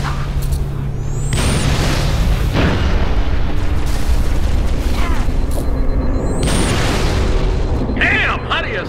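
Final protective fire from artillery in Halo: Reach sends heavy booming explosions rolling out in a loud, sustained barrage, with radio-style voices and whistling shots over the blasts.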